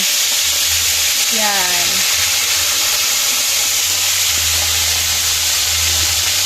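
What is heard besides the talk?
frying pinakbet ingredients in hot oil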